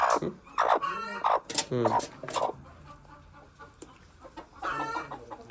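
Hens on a poultry farm that are fed layer feed cluck close by in short repeated bursts, with a person talking between the calls.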